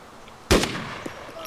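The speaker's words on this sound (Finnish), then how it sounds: "Mä voin yrittää ampua zombeakin täältä." A single sharp gunshot at zombies in the survival video game DayZ, loud and abrupt, followed by a brief decaying tail and a faint later thump.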